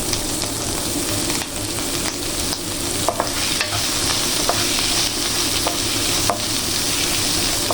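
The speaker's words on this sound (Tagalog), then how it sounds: "next ilalagay natin is yung bawang" Garlic frying and being stirred in a pan while pork chops in tomato sauce are cooked: a steady, close sizzle broken by occasional sharp clinks of the utensil.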